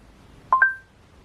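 Two short, loud dialing tones in quick succession from an Android Auto double-DIN car head unit placing a call, then quiet.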